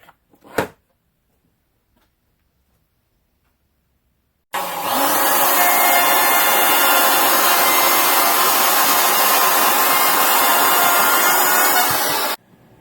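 A handheld router runs a 1/4 inch round-over bit along the edge of a wooden charcuterie board, a loud steady whining roar lasting about eight seconds after a short knock and silence, then cutting off abruptly.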